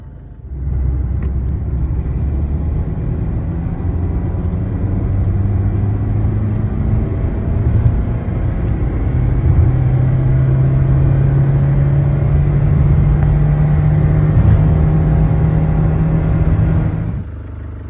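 A car engine idles with a low rumble, then the pitch climbs as it revs up and holds, running steadily for most of the clip before easing off.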